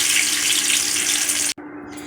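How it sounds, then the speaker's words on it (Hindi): Chaap pieces shallow frying in hot mustard oil make a steady, loud, close sizzle that hisses continuously, with one brief break near the end. "अब हमारा ऑयल गर्म हो चुका है। हम ये चांप डाल देंगे।"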